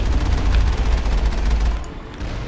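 Gunfire in the video game Mass Effect, a dense rumbling barrage of shots and booms that stays loud and continuous before easing slightly near the end.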